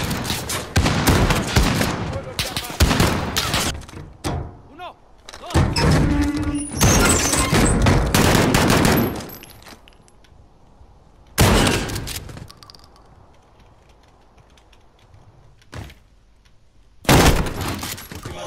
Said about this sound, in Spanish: La escopeta reparte.